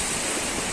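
Waterfall at Sulu Salam, a brief burst of constant rushing, roaring water noise, close and even, with no voices.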